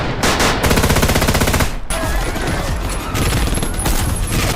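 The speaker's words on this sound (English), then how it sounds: "they were no match for the robbers' intense gunfire" Intense bursts of film gunfire from bank robbers: loud, dense rapid machine-gun fire, hammering continuously before a brief pause, then resuming with more scattered shots and ringing over a chaotic action soundtrack.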